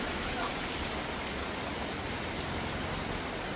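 Rain falls outside in a steady, dense hiss of drops, unbroken and even throughout.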